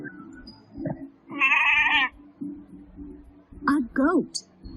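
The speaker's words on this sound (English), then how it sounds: "A goat." Goat bleats twice in a short animal-sounds science lesson, a wavering call around the middle and a louder pair of quavering cries near the end, with soft voice-like sounds in between.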